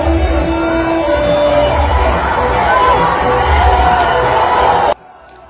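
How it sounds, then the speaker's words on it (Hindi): A large crowd at a political rally in a packed pandal roars with dense cheering and shouting, loud and continuous, before cutting off abruptly near the end. "भाई ऐसी भीड़ देख लो जरा।"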